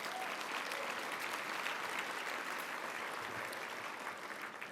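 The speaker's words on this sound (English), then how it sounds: "let's give them a big round of applause" Audience applause at a Lunar New Year gala honoring a chamber of commerce, sustained dense clapping from a large crowd, steady and even for the whole stretch without speech.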